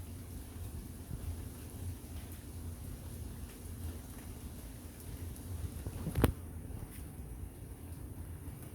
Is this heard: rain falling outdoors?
yes